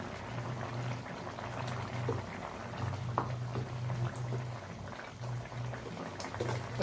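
Pumpkin curry bubbles steadily in a pan, a soft, continuous simmer with faint irregular pops. It is quiet and close, and no voices are heard.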